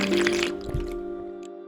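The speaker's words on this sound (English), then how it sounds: "allow me to take a sip of water as we begin" A short, close sip of water taken between sentences, with small wet slurping and swallowing sounds over a steady low hum, no speech.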